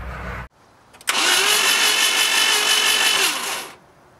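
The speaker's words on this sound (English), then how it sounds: "let's crank the engine" After a brief click, the starter of a 1988 Jeep MJ 2.5L with a no-start fault whirs up and runs steadily for a few seconds, then cuts off abruptly, the engine cranking over without catching.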